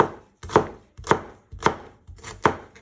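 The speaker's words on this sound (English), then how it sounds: "And then you just want to finely slice it" Knife slicing food on a cutting board for a beef and mushroom noodle dish, four crisp, evenly spaced cuts, close and clear with no talking.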